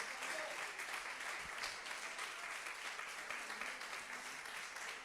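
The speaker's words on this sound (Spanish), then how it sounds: "¿Cuánto le dan un aplauso al Señor por lo que Dios hace?" A church congregation applauds for the Lord, a dense wash of clapping from many hands, steady and distant-sounding, at low level.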